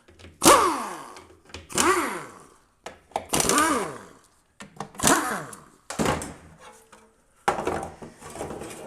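Metal oil pan being worked off a 48RE transmission on a 4x4, a series of separate clanks, scrapes and knocks spaced across several seconds, fairly close with quiet gaps between.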